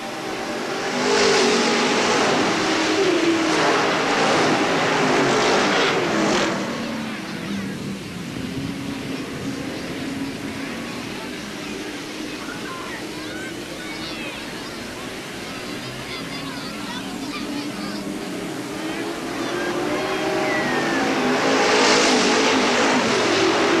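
Sportsman race cars roar around the Hales Corners Speedway track, a broad, distant engine wash that swells loud as the pack passes, eases, then builds again, with a race announcer calling the action over it.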